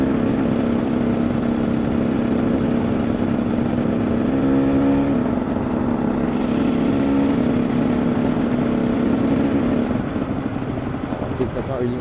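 KTM 300 EXC supermoto two-stroke engine holds a loud, steady drone with rising and falling revs as the rider sets up a wheelie, close and continuous with wind noise.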